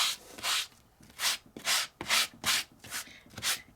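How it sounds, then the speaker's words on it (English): Rhythmic sanding strokes rub across an embossed, red-painted crafting surface to reveal a lighter red underneath: about eight steady, close back-and-forth scrubs with short gaps, heard alone with no talk. "Give it a little bit of a sand. Expose that lighter shade of red that's underneath."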